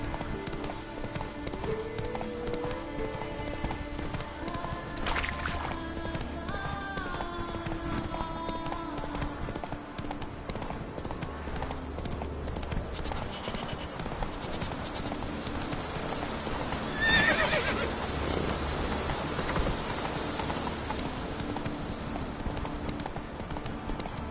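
Roach the horse gallops in The Witcher 3 with steady, rhythmic hoofbeats over a soft rain-like ambient wash, with faint distant tones and a brief louder rustle near the end.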